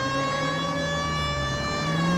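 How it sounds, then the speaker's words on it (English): A police siren from the LA Noire video game, a steady wailing tone layered over a car engine, continuous and fairly loud throughout with no talking. "Siren."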